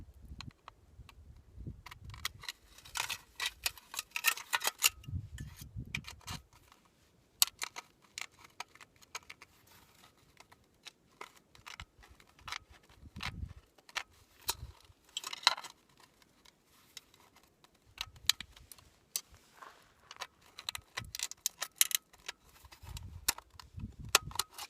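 Metal rings are cut off a can to build a hobo stove, producing scattered sharp snips and crunches at an irregular pace over about twenty-five seconds, quiet and close with gaps between cuts.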